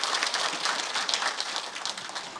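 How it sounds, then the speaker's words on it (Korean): An audience at a Buddhist ceremony applauds as monks, including the abbot of Beomeosa temple, enter. The clapping is a dense, continuous patter that fills the room at a steady loudness, with no talk over it. "여러분 다시 한번 큰 박수로 환영해 주시기 바랍니다"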